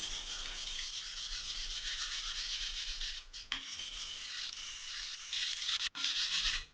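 A knife blade is rubbed back and forth on a whetstone in a continuous, close scraping hiss, broken by two brief pauses near the end.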